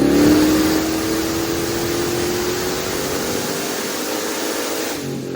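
Stock bottom-end LS3 V8 with an 88mm turbocharger running on a dyno at 9 pounds of boost, a loud sustained engine roar with a rising whine that drops away near the end as the pull finishes.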